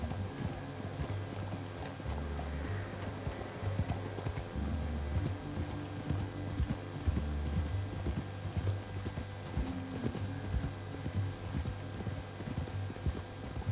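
Rhythmic horse hoof clip-clops trot along steadily over a droning background in Red Dead Redemption 2, the beat continuing without pause throughout.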